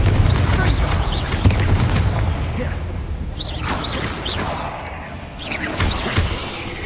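Fiery Confringo blast spell cast in the video game Hogwarts Legacy, a series of whooshing bursts and booming impacts over a dense, rumbling battle din with other combat effects layered throughout.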